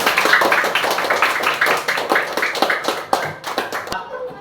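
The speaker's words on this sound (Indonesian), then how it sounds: "tepuk tangan untuk kita semua" A primary school class in Indonesia claps together in a quick, loud, fairly regular pattern up close, the hand claps running for about four seconds before stopping abruptly into near silence.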